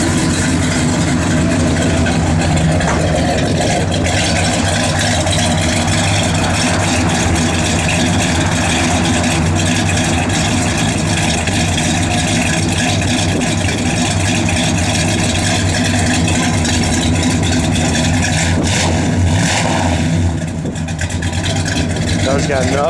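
A 1967 Pontiac GTO V8 idles steadily with a deep, loud low-end rumble and a few light revs, running continuously close by while people talk over it.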